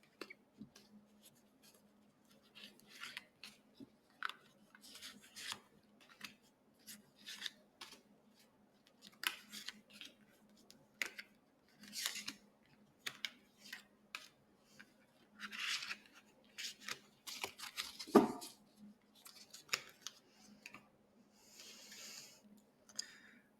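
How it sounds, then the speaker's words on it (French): Tarot cards are spread out and laid down on a table, making soft scattered shuffling and sliding swishes with brief taps, close and quiet, with occasional faint breathing. "on va étaler le jeu et on va recouvrir ces cartes"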